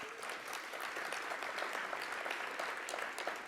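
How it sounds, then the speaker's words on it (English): Audience applause at a hospital research symposium, marking anniversaries of Royal Prince Alfred and Concord Hospital; dense, steady clapping from a large room holds evenly throughout without pause. "A round of applause for that as well"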